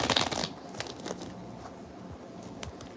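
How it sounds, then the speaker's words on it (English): Tarot cards shuffled at close range, a brief riffling burst at the start, then a few soft slides and taps of the deck. "One more shuffle."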